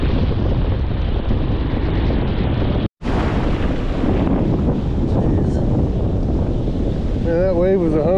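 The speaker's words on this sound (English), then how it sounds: "the wind is bad enough it knocked my hat off my head" Strong wind batters the microphone on a beach beside a jetty, a loud, constant roar that breaks off for a split second near the middle and then continues just as hard.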